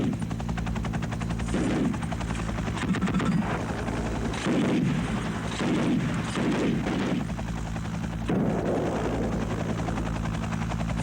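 An Mi-8 helicopter attacks a village, its steady rotor and engine drone continuous and fairly loud throughout, with bursts of what sounds like gunfire or artillery rising over it.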